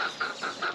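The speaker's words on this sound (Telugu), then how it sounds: "చిన్న కోడి పిల్లలు ఇవ్వండి, అది తింటున్నాయి." Small chicks and hens feed in a yard, and a chick gives four quick, evenly spaced high cheeps, faint and close, with no other sound.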